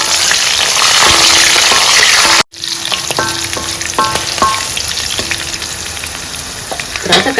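Dried red chillies and green chillies frying in hot oil for an Andhra-style ivy gourd fry, a loud steady sizzle broken by a brief drop to near silence, then crackling resumes with scattered pops and spatters.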